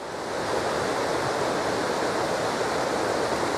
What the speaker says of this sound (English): we're right at the bottom at waterfalls now